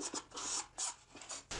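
Filing a bevel along the bottom edge of Formica laminate, a dry rasping stroke repeated in short bursts with brief pauses, close and fairly quiet with no talking.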